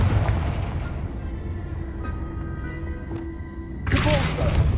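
Confringo fire blast spell from Hogwarts Legacy, a deep rumbling boom that builds and then bursts into a loud, bright crackling blast near the end.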